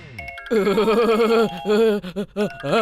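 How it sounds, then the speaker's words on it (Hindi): A telephone rings with a loud, melodic electronic ringtone in a Hindi-dubbed action film scene, its repeated tones pulsing in short bursts close up. "सर का फोन"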